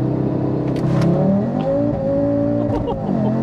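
A tuned Audi RS3 8Y with roughly 520 bhp launches and accelerates, its engine note loud and steady as the pitch climbs, with a brief rise and fall near the end and a voice faintly underneath.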